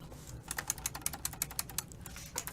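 An IBM Model F buckling spring keyboard from the 1980s is typed on, giving a quick run of crisp, sharp key clacks with a short pause partway through, close and fairly quiet, with no talking.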